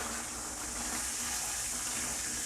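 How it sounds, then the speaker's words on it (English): Boiling water poured from a 1.7-litre jug over plums for homemade wine, a steady, full splashing gush that runs continuously and loudly close by. "Next up, I'm going to add some boiling water."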